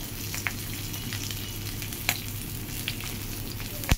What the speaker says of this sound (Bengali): পেঁয়াজ কুচি, লবণ, সব কিছু লাড়াচাড়া করে